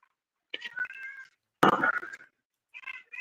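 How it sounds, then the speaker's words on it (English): A cat meows a few times in a quiet room, with short separate calls and gaps of silence between them. "I hear the cat"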